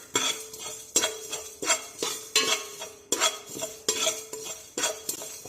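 Spices for a spicy mutton achar, including sesame, are stirred in a pan over a low flame, giving repeated scraping strokes about once a second, close and clear with no talking.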